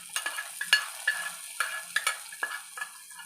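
Fried shallots and fenugreek are stirred into a clay pot for a dried prawn curry. A spoon gives a run of light, quick scrapes and taps over a faint sizzle, close by and fairly quiet, with no voices.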